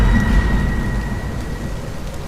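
Steady heavy rain pours down during a storm with deep thunder rumbling low underneath, loud and continuous throughout with no voices.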